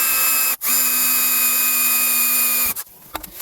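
A thin bit drills into a Peugeot 1.6 HDi engine with a loud, steady, high whine. It cuts out briefly, runs on, then stops and is followed by a few short clatters.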